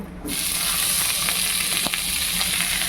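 Pieces of hilsa fish slide one by one into hot oil in a pan, setting off a steady, close sizzle of frying with faint ticks and pops, no voices present.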